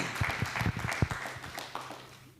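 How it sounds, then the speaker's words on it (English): Audience clapping at a tech community talk in Johannesburg, a quiet scatter of claps fading out over a couple of seconds. "So I think we should also clap for ourselves"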